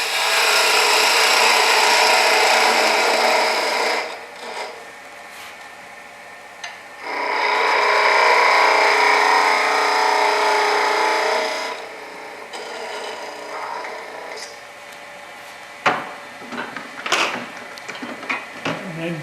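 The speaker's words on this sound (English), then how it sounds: "Got the speed at about 1800 RPMs using the diamond parting tool again." A wood lathe spins at about 1800 RPM while a diamond parting tool cuts a small Christmas ornament, producing loud rasping, scraping bursts separated by quieter gaps, ending with a few sharp knocks.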